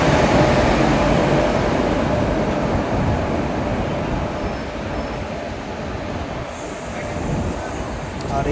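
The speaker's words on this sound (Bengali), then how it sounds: "তো দেহগড় এক্সপ্রেসকে সাইডে রেখে আমাদের ট্রেন কিন্তু বেরিয়ে যাচ্ছে।" The 12347 Sahid Express passenger train pulls out past Burdwan on the Howrah to Rampurhat run, a loud, steady rumble of wheels on rail with rattling coaches and a continuous roar heard close from on board.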